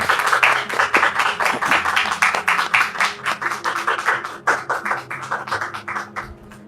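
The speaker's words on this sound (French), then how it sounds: "sous vos applaudissements" A television studio audience applauds rhythmically, a close, loud run of unison claps in a steady beat that stays fairly even before tapering off at the end.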